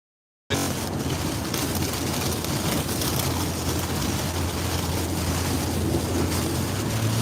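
Hurricane Nicole's wind and surf batter the West Palm Beach, Florida shore in a loud, unbroken roar, with steady gusting and crashing water filling the whole stretch after a brief silent start.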